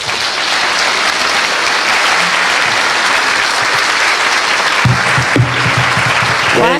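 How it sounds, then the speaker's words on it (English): Applause from an audience at a business forum breakfast, a dense steady clatter of many hands that carries on loud and unbroken, with a brief voice cutting in near the end. "Let's give another round of applause to our chief guests"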